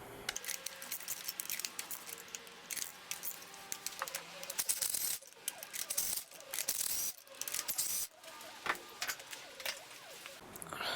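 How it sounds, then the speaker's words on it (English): Metallic clicks, rattles and clinks from a ratchet with an extension loosening the spark plugs on a 2007 VW Polo 1.4, arriving in irregular close bursts with short pauses between them. "with my ratchet and the extension, I'm going to just loosen the plugs"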